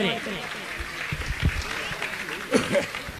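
Applause from an audience honouring two women at a Jain religious gathering, a steady crowd clapping across the short moment with some voices mixed in.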